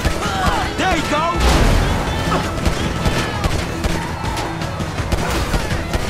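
Gunfire in Grand Theft Auto 5 during a car chase: dense, continuous bursts of shots and crashes over a roaring vehicle, loud and close throughout.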